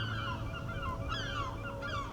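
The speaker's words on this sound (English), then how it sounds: "Them seagulls are irritating. Don't know why they don't clear off." Seagulls calling at the seaside in Herne Bay, a few sweeping, honking cries rising over a steady low rumble of background noise, fairly close and alone without talk.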